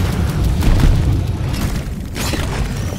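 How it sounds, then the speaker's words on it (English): Explosion in the Deep Rock Galactic video game: a loud, sustained rumbling boom with heavy low-end energy that fills the whole stretch, settling slightly but staying strong to the end. "Things about to explode!"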